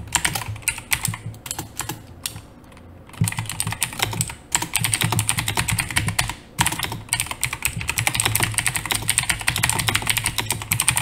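Rapid clattering of a loud computer keyboard, bursts of fast keystrokes broken by a short pause, then more steady typing, close and alone.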